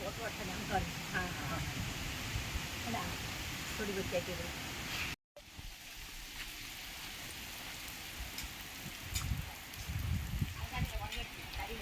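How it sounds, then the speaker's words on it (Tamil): Heavy rain driven by wind on a hillside turmeric field where workers are planting, a steady broadband wash that runs throughout, dropping out briefly around the midpoint, with voices talking faintly underneath. "பயங்கரமா அடிக்குது மழையும் காத்தும் சேர்ந்து"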